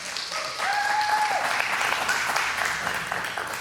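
Applause from a Torah study group fills the room, a steady, moderately loud wash of clapping that swells after a brief pause and holds, with a faint tonal whistle briefly riding above it.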